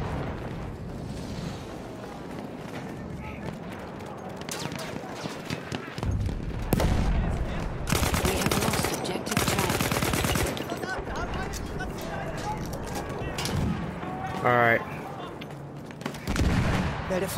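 Submachine gun bursts from an MP weapon in Battlefield 1 trench combat, rattling repeatedly in loud dense volleys amid other battlefield gunfire, with a player talking over the action.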